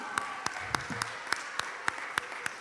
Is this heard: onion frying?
no